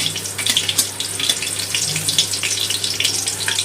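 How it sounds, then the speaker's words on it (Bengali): A tempering of black cumin, a cut dry chilli and green chillies spits in hot oil for fried kalmi greens, a dense, close hiss with rapid crackling pops that keeps an even loudness throughout, with no voices. "ফোড়নটা একটু তেলে ভেজে নেবো"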